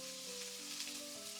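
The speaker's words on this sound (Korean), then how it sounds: "불을 켜시고 스팸 넣어 주세요." Steady, fine crackling sizzle of Spam frying in a hot pan, close and continuous with a faint hum beneath.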